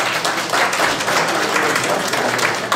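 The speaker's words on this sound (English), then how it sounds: "Let's give a round of applause." A roomful of seminar attendees claps at a beef customer event, a loud and sustained round of applause with a faint murmur of voices underneath.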